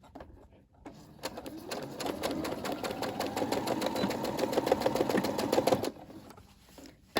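Brother SE600 sewing machine stitching a seam on a two-toned party sash, a steady rapid needle chatter running for about five seconds at close range, then stopping, with no talking.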